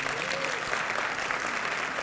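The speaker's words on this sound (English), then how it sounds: "Please give them a round of applause." An audience at a youth council graduation and scholarship event applauds, continuous close-packed clapping at an even level for the whole moment.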